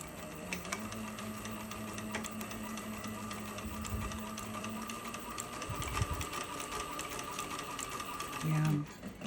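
A Cobra Class 26 sewing machine back stitches, giving a fast, close mechanical clatter of needle and gears in steady bursts, with a few soft voice sounds mixed in.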